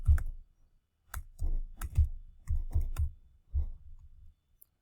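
Computer mouse clicks and keyboard typing while setting up Java and Eclipse for Selenium, heard as sparse, close, sharp taps in short irregular groups in a quiet room.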